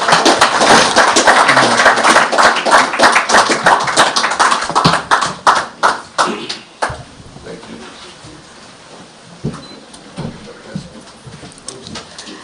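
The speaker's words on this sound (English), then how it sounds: "I believe we could give His Excellency a warmer round of applause for that address." Audience applause after a speech at the Davos forum: dense, loud clapping that thins into scattered claps and fades out, leaving a quiet room with a few last hand claps.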